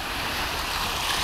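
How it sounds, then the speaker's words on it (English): Calm sea waves at Makarska beach wash steadily as a broad, even surf hiss with some wind noise over it, with no distinct breaking crash. "Waves, calm as can be."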